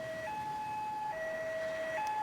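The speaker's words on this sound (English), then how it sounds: "Okay, we're gonna get an ambulance rolling as well." Ambulance siren from the video game Emergency 5, set in Hamburg, a steady two-tone wail alternating high and low pitch, moderately loud and continuous with no talk.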